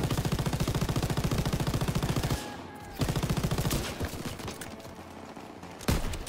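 Sustained rapid machine-gun bursts in the Call of Duty: WW2 D-Day campaign, a loud continuous stutter for over two seconds, then another burst followed by scattered distant gunfire and a sharp blast near the end.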